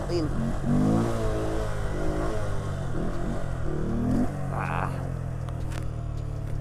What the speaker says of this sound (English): I'll get scratching this wheelie